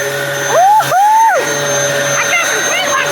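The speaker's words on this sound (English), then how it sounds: "now I'm filming and Daniel's hoovering in." A vacuum cleaner runs outdoors with a loud steady motor whine, its pitch rising and falling briefly as it is moved through a mess, while people talk nearby.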